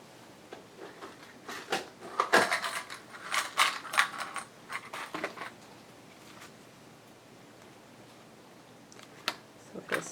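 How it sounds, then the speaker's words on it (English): A clamp clicks and ratchets as it is tightened on a sewing project with a pocket tuck, a cluster of close mechanical clicks and snaps followed by a few scattered later ones. "I'm probably going to have to clamp it."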